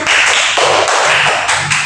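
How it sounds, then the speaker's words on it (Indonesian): Classroom applause from a primary school class, a steady run of many hands clapping at once, fairly loud and close, with no talking over it. "Oke, kasih tepuk tangan."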